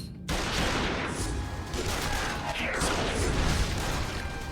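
A loud, sustained barrage of gunfire in the video game Yakuza Kiwami, rapid automatic shots and booms layered together, running nonstop after a brief quiet opening.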